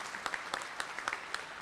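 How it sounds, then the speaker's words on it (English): Applause from a breakfast-event audience welcoming attending officials, a short burst of brisk, scattered clapping from a modest crowd in a room. "A round of applause for everybody."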